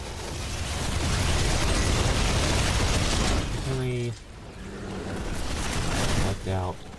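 Rumbling, crackling explosion as a tower is blown apart in Riftbreaker, a sustained roaring burst that fades, followed by short synthetic alert tones and a voice speaking over the noise.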